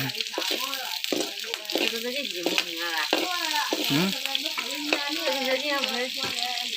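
Oil sizzles and fries loudly in a pan for a meal of chicken and bamboo rat cooked Akha style. A voice talks over the steady crackle the whole time.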